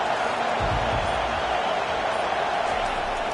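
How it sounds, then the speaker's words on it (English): A stadium crowd at a UCLA football game roars in a dense, continuous wash of noise, loud and steady throughout. "listen to this crowd roar"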